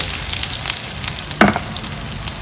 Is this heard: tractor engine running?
no